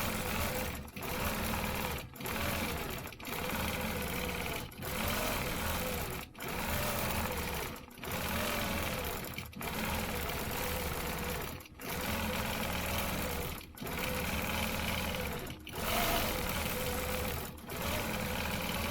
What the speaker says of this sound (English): I'm just going to do one more and then backtrack up here, travel right into this next one, and continue on.